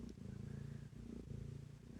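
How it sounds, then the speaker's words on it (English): Domestic cat purring up close in a warm bedroom, a soft, steady rhythmic rumble pulsing with each breath, faint but continuous and alone. "So can you hear the cat purring?"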